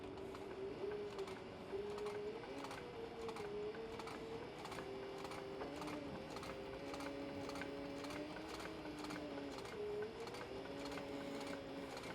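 A sewing machine top-stitches leather in a steady, rapid mechanical chatter with a humming motor tone that shifts slightly in pitch, continuous and fairly faint.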